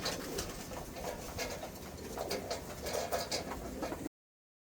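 Young pigeons, squeakers, coo and murmur softly at close range in a loft, a steady low burbling with faint rustles, ending abruptly.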